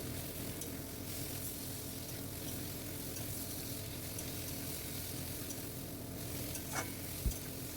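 Spice paste for aloo potoler dum sizzles steadily in a pan while being stirred, a dense continuous frying hiss with a couple of soft utensil knocks near the end.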